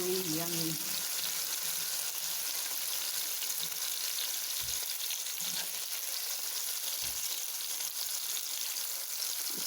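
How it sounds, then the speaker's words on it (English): Vegetables and mushrooms sauté in a pan with a quiet, steady sizzle and an occasional soft knock of stirring, heard close up and faint throughout. "sauteed vegetables with mushrooms"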